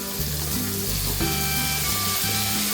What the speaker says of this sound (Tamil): அடுத்து வெங்காயம் இது 2ஐயும் நல்லா வதக்கிக்குவோம்.